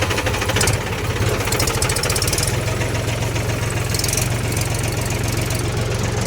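A tractor engine runs hard while being pulled out of deep mud, a loud, close, continuous rapid knocking chug with rough vibration throughout.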